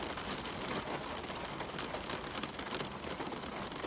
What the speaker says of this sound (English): Let the rain against the glass be your only companion.